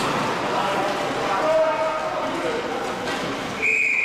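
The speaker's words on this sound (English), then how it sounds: "it gets whistled off for icing" A referee's whistle blows near the end of an ice hockey bronze medal game, a short shrill tone rising over the crowd and arena din, with commentary running throughout.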